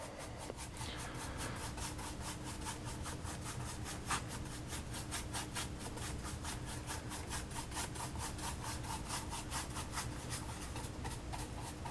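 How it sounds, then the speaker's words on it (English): A paint brush is swirled over an MDF surface, making a fast, even run of rhythmic scrubbing strokes that is faint but steady throughout. "now I'm just kind of swirling the brush around to pick up any light details that may exist in that MDF"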